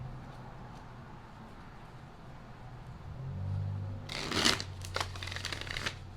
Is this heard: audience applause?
no